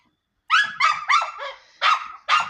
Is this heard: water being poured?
no